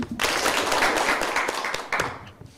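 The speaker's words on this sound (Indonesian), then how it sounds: "Tepuk tangan dulu." Classroom students clap their hands together in a short burst of dense clapping that fades out near the end, with a few scattered claps trailing after.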